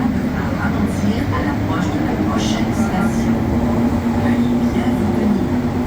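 Steady low rumble of a Montreal Metro train in motion on a curve, a constant drone with faint high squeals and rattles, and a voice talking over it.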